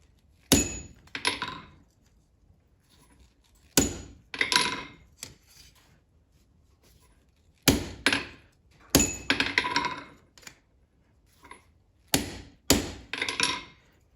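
A hammer strikes the hot bit of forged tongs to fit them to stock, ringing metallic blows in irregular bursts of two to four, loud and close, separated by short pauses.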